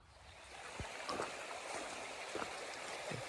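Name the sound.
small river flowing on the Appalachian Trail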